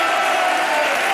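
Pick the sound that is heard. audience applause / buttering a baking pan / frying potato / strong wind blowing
audience applause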